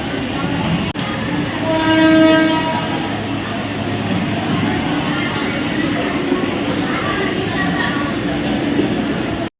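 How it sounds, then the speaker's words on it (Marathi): A Konkan Railway train pulls out of Panvel station, its horn sounding a sustained tone near the start over the continuous rumble and rattle of the moving carriages, with voices heard faintly in the background. "त्याला गाडी सुटली आता पनवेलवरून."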